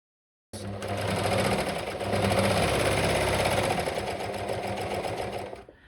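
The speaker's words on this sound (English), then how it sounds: "I lift the presser foot, pivot, lower it again, and sew off." A sewing machine stitching stretch fabric for a boxer runs in one loud, continuous buzzing burst of rapid needle strokes, close up, with a short pause then resuming.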